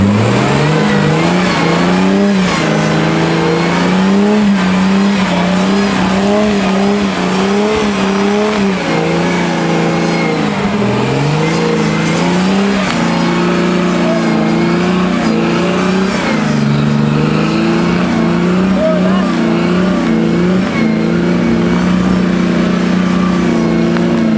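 Jeep engine revving hard with tires spinning in mud on an off-road hill-climb track, a loud, continuous rising and falling drone heard up close throughout.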